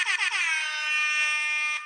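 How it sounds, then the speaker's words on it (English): An air horn sound effect blares loudly, a few quick stuttering blasts giving way to one long sustained brassy tone that cuts off abruptly, with no talking. "Let me get a motherfucking air horns for this segment."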